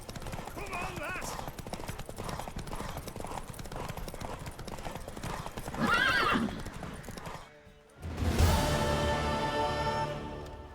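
Horse hooves galloping in The Witcher 3, a fast steady clip-clop with a loud neigh near the end, alongside spoken dialogue.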